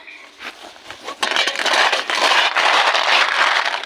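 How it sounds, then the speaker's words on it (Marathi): Raw cashew seeds tipped into a roasting pan over a traditional wood-fired stove in Konkan, giving a dense, loud rattling crackle and scrape that swells after a second and continues steadily throughout. "आता यात आपण दुसऱ्या बिया टाकणार आहोत"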